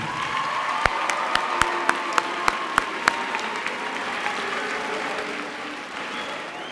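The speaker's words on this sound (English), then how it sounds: "Let's give them all a round of applause again." Applause from the audience at a high school awards ceremony: a few loud, separate claps ring out first, then the crowd settles into sustained clapping that gradually fades.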